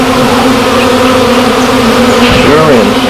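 A dense, continuous hum of honey bees swarming around the hive and its developing brood, close and loud, with the pitch wavering slightly near the end.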